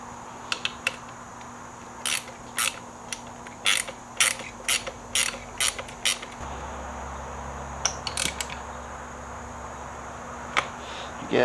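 A 13mm nut being tightened on a car mirror mount, short sharp ratchet clicks and creaks coming in irregular bursts up close against a quiet background, with a low hum in the second half.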